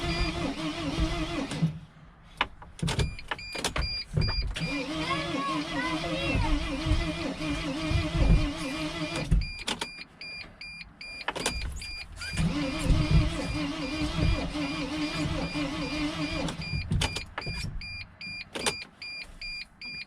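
A 2006 Mercedes T1N Sprinter van engine cranks repeatedly without starting, in bursts of starter whirring separated by pauses and electronic warning chimes, fairly close and loud, with no talk over it.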